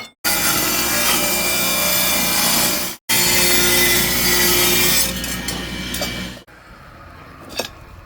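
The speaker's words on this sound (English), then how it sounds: "rip it down to make a C-channel out of it" Aluminium plate being sawn lengthwise into a C-channel during chassis modification, a loud continuous rasping cut in two long passes with a brief pause, then fading to quieter scraping and a small clink.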